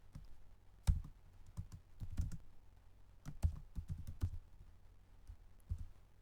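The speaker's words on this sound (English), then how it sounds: "just type it in and hit enter to go to the next" Soft clicking of keys as data is typed on a computer keyboard, in scattered short runs with pauses between, fairly quiet and close, with no voice.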